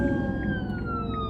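An ambulance siren wails steadily through traffic, loud and close, its tone sliding slowly downward as it passes, over a low rumble of road and engine noise.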